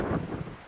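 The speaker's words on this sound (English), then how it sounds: "I don't know if this is picking up the wind noise, but it's windy and it's cold." Cold spring wind gusts across a lake in Algonquin on a canoe trip, buffeting the microphone as a brief, loud, rough rumble with no voices.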